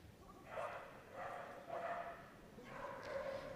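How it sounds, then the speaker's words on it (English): A dog barks repeatedly during a Crufts 2022 small/medium agility championship run, four short bursts spaced out at moderate distance over arena crowd noise, with an announcer talking. "Barking her way round."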